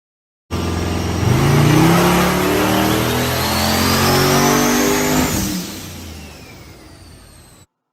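A twin-turbo, nitrous-fed Fox Body Mustang on a dyno at about 14 pounds of boost on wastegate, its engine roaring loud and close through one rising pull, pitch climbing steadily before the throttle lifts and the noise falls away.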